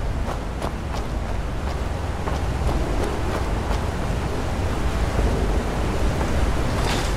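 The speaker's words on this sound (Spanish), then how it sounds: "Oigo agua allá abajo, espera." Running water below in the Skyrim Dawnguard game, a steady rushing broadband wash like a stream or waterfall, continuous and fairly loud, with faint footstep-like ticks over it.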